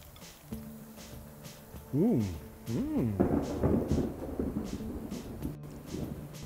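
Thunder rumbles outdoors while tacos are being eaten, a low rolling rumble swelling and fading over several seconds, moderately loud under some voice-like tones.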